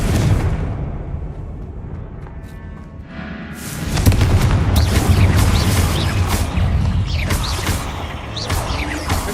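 A Confringo blasting spell explodes in Hogwarts Legacy inside a tomb, a loud broad boom bursting in after a quieter stretch, followed by sustained rumbling debris and crackling effects with no talk.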